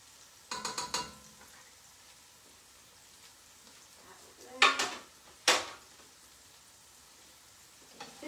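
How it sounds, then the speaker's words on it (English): A spoon stirs food in a pot with a few scraping clinks, quiet pauses, and then two sharper knocks against the side of the pot. A soft background hiss runs underneath. "Give this a stir."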